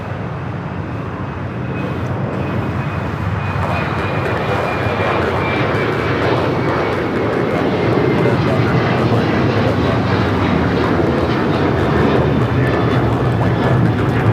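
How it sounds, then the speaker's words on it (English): An EVA Air Boeing 777-300ER on Flight 5 to Taipei takes off at a busy airport with a heavy, sustained engine roar that builds slightly in loudness, while a faint whine drifts down in pitch. "EVA Air Flight 5 taking off to Taipei on the 777-300ER"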